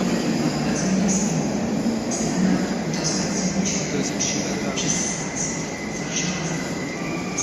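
A train bound for Warsaw airport pulls into a station, a steady loud rolling rumble with bursts of high wheel squeal throughout, no talk over it.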